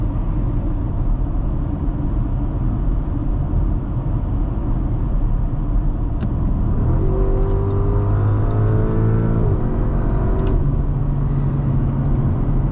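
A 2025 Audi SQ7 4.0T Prestige SUV pulls hard from rolling speed, its engine note rising through a clear rev sweep over steady road and wind rumble, then easing back to a cruising hum.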